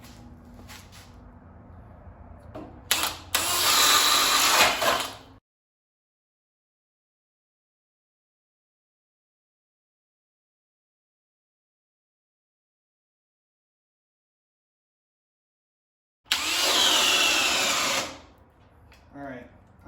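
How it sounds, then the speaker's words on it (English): A DeWalt DCD999 drill in drill mode on speed 3, boring with a 3/4 inch bit, whines loudly in two bursts, one at the start and one near the end, with a stretch of silence between them. "starting out with the DCD 999 power stack, full bars, 3/4 inch bit, speed 3, I'm sure it can do this, drill mode."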